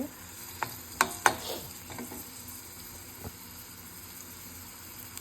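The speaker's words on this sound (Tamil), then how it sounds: "சின்ன தக்காளி ஒன்று ஸ்லைஸ் பண்ணி போட்டுக்கிறேன். இது ஒரு 2 நிமிஷம் வதங்கினா போதுங்க." Sliced small tomato hits a pan and sautés with a soft, fairly quiet sizzle, opening with a few sharp clatters of the pieces and spoon before settling into a low steady fry.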